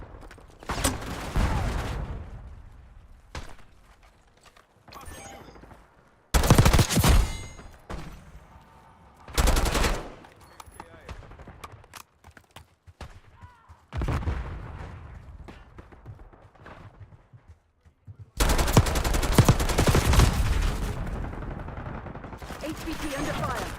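Gunfire in a shooter video game: bursts of rapid shots and volleys break out loudly, separated by quieter stretches, with one long heavy barrage near the end.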